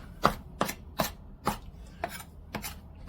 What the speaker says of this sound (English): so I'm going to go ahead and chop the parsley now